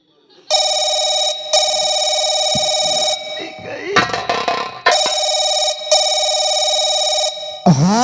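A telephone rings in long, loud electronic trill bursts separated by brief gaps, interrupted in the middle by a short stretch of other noise before the ringing resumes, with a voice starting at the very end.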